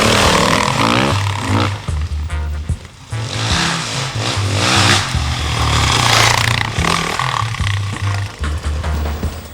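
Engine of a 2006 Husqvarna enduro motorcycle being ridden on test, loud and continuous, revving up and down with gear changes and throttle surges throughout, close by with no talk.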